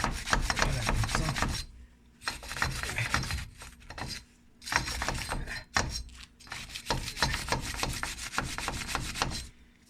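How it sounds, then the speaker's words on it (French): A wire brush scrubs the wheel hub of a Lexus during a front brake job, in bursts of close, harsh metallic scraping separated by short pauses, with no talk. "Là, on prend justement la brosse métallique, comme j'ai expliqué tout à l'heure."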